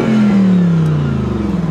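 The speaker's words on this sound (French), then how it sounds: "Écoute, écoute la manière dont ce moteur s'éteint." A sports car engine shutting off, its loud mid-low tone sliding steadily downward as the revs wind away over a second and a half.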